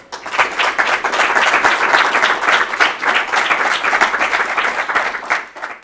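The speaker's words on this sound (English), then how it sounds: "So can we have a big round of applause please for Hazel?" An audience claps loudly and steadily, with sustained applause that fills the whole stretch before tapering slightly at the end.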